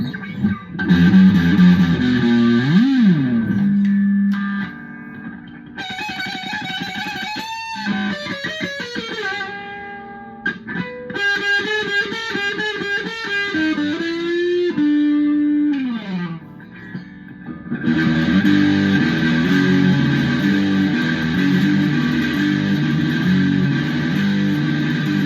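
An electric guitar runs through a Firefly pedal, switching between distortion and overdrive settings, with loud sustained chords and single-note lines, brief pauses between phrases, and no talking.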